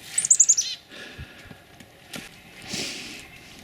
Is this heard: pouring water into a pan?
no